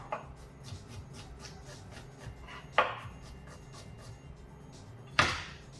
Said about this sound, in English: So I'm just going to slice it up.